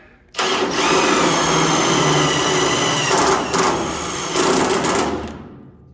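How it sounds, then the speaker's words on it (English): A drill bit cuts around a spot weld on a 1972 Blazer rear quarter panel, a loud sustained whining grind lasting about five seconds with brief dips in pitch, close and without speech. "Just pretty much just cut a hole around the spot weld."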